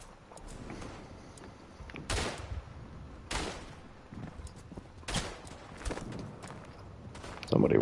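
Gunshots ring out in the WW1 trench shooter Verdun, sharp loud bursts spaced a second or so apart over a steady battlefield rumble, with a player talking throughout.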